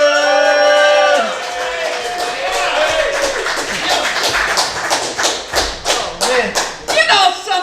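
Applause for a comedian at a comedy show, starting after a fading musical sting and building into scattered, irregular claps from a small crowd, fairly close and growing sharper toward the end.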